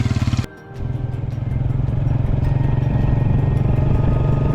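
A Deluxe motorcycle idling and pulling away on a rural road in Azad Kashmir, its loud single-cylinder engine thumping in a fast, even rhythm close by, after a brief dip at the start.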